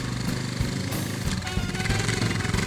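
A Suzuki DR650 dual-sport motorcycle engine revs hard on a steep trail climb, a loud, gritty, continuous roar with rapid throttle pulses. No one speaks.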